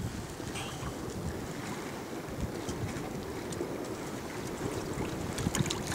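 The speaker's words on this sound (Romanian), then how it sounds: "suntem cu barca pe niște valuri" Steady broadband rush of wind and waves around a fishing boat on the open water of the Golesti reservoir, continuous and fairly loud, with no voices.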